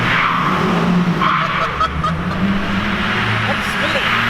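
Car tires squeal and skid on pavement during a spin-out, loud and continuous over a droning engine, with excited voices mixed in.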